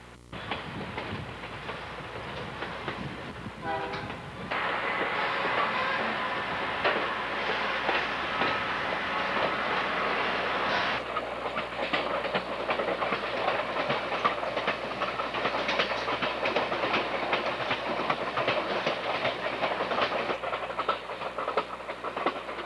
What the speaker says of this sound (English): Train makes good speed into Montreal.